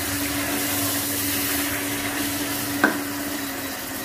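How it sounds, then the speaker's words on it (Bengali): Meat frying in a pan with two spoons of ginger-garlic paste for dopiyaza, a steady close sizzle with a low hum and a single sharp clink of the spoon. "এটাকে আমি ভালো করে মিক্স করবো।"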